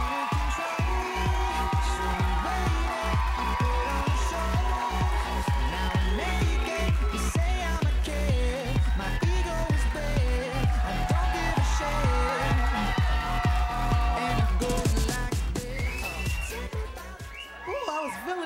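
A comedy club audience claps in steady rhythmic time to welcome a comedian onstage, the dense clapping running nearly continuously and loudly beneath music and a crowd, thinning out only at the very end.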